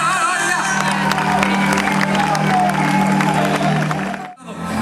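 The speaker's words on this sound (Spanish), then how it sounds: "Ahora ya, un aplauso como Dios manda." A large crowd at an outdoor village festival in Oza, Teo, with the Panorama orchestra, applauds and cheers loudly and steadily with scattered shouts, then cuts off abruptly near the end.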